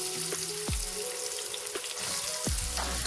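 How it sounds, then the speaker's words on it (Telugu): Onions fry in a tablespoon of oil in a pan with chopped dried red chillies, giving a steady sizzle throughout with a few sharp spatters and stirring knocks. "ఆనియన్ మంచిగా బ్రౌన్ కలర్ వచ్చేదాకా వేపుకోవాలి"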